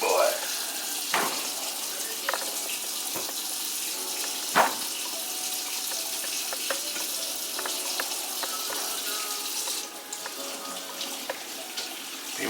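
Tap water running hard into a kitchen sink while turkey drumsticks are washed, a loud steady gush with a few knocks and splashes and someone talking over it.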